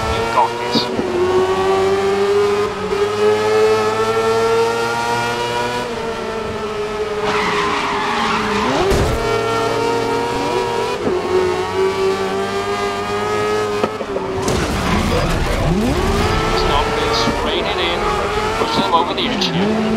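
Race cars tearing around Suzuka circuit in GRID, engines screaming loud and close with rising and falling gear-change pitch, a brief tire squeal midway, continuous throughout with a voice talking over it.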